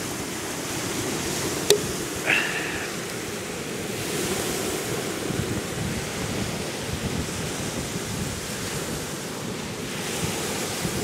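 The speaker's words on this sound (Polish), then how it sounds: "I siedzieć i posłuchać, jak fale regularnie podmywają brzegi Helu" Ocean waves wash continuously onto the shore of a beach at Hel, Poland, in the evening, a broad steady roar with gusts of wind buffeting the microphone and a brief click early on.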